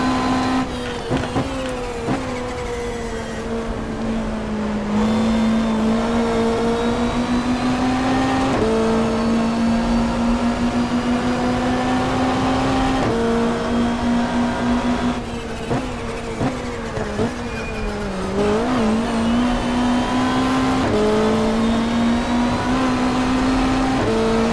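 Super Touring race car, a Ford Mondeo, at Symmons Plains, its engine droning loud and steady in a high pitch that climbs and drops at each gear change, another car heard briefly in passing.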